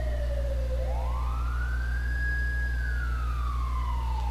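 Fire engine and ambulance sirens in a video game, a loud, steady wailing tone that sweeps up and down over a constant low engine hum, with no voices.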